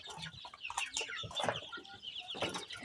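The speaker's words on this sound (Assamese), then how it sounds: "এইকেইটা এমাহ হৈছে পোৱালি, এইকেইটাও লোকেলে।" One-month-old local chicks and chickens clucking and cheeping close by in a barnyard, with overlapping calls in an irregular, busy rhythm and no talking.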